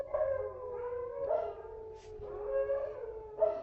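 Dogs howling in long, wavering, rising and falling cries that overlap for several seconds, heard at moderate distance with no talk over them.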